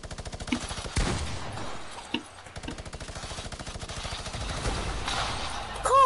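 Rapid, rhythmic automatic gunfire from a PS4 shooter game rattles in steady bursts with occasional sharper shots, fairly loud throughout the short stretch.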